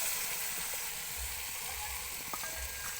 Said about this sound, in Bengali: এরপর দিয়ে দেবো কয়েকটা চিংড়ি মাছ